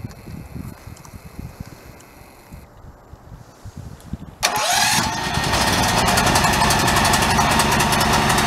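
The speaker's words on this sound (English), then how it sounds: "the generator's been starting up just fine lately with that bigger battery" A generator in an off-grid RV setup turns over with quiet rhythmic cranking, then catches suddenly and settles into a loud, steady running drone that holds to the end.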